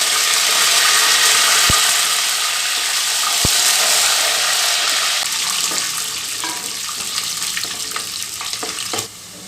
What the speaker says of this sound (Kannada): ಕಡಲೆ ಬೀಜ ಎಲ್ಲ ಚೆನ್ನಾಗಿ ಫ್ರೈ ಆಗಿದೆ